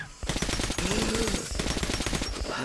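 Rapid automatic gunfire in Metro Last Light Redux, dense loud bursts of shots continuing nearly the whole time with little pause.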